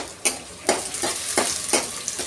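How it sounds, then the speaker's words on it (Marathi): Tomatoes sauté in hot oil with onion in a pan, a soft continuous sizzle broken by about five rhythmic scraping strokes of a stirring spoon, close and fairly quiet. "टोमॅटोही छान असा तेलावर आपल्याला परतून घ्यायचा आहे."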